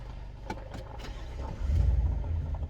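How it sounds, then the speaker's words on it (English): A Chevy Suburban Z71 engine pulls away at a low, quiet rumble that swells as it begins moving, with a few soft clicks and knocks early on. "Time to drive the Chevy Suburban."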